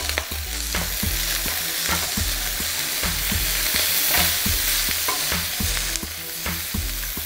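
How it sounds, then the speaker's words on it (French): Meat sizzling and frying hard in a pan with lemon juice, a steady loud crackle broken by regular scraping or stirring knocks. "La viande est en train de m'appeler, elle chante bien comme il faut."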